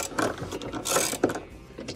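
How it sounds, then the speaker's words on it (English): A 7/16 socket ratchet unscrews the agitator bolt on a KitchenAid washing machine, giving a brief run of close, rapid clicking pawl ticks over a couple of seconds. "take our 7/16 socket and remove the agitator bolt by holding one of the fins of the agitator and unscrewing"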